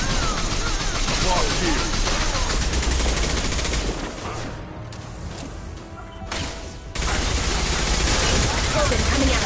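Sustained gunfire in a Mass Effect Legendary Edition firefight, dense and loud with rapid overlapping shots, easing briefly in the middle before resuming at full intensity, with a voice shouting over it.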